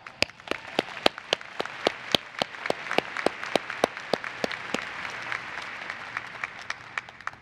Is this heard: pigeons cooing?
no